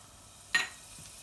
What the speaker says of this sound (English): So oil is hot now, to which I'll be adding in 3 to 4 curry leaves